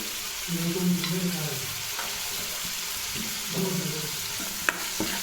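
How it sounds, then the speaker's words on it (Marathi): Chole masala spices frying in oil in a pan, a steady close sizzle with stirring scrapes and a couple of light clinks over about five seconds. "आणि मसाला छान परतून घेते मी आता"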